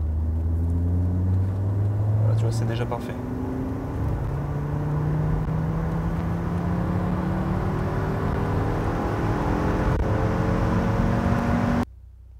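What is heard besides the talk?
Audi RS3 engine running on test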